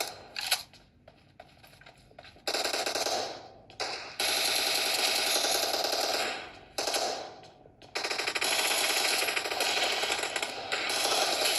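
Repeated bursts of automatic gunfire in PUBG Mobile, played on a realme C25s phone, come in several sustained volleys separated by short gaps, loud and rapid, with no talk over them.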